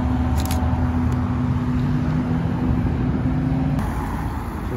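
A Ferrari Roma pulls into a car meet with a steady, close low engine drone that holds evenly, then eases slightly near the end, over faint background crowd ambience.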